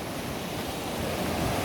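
Fast-flowing river water rushes through the East Race Waterway, a man-made whitewater channel off the St. Joe River in South Bend, Indiana, as a dense, steady roar with wind noise on the microphone and no voices.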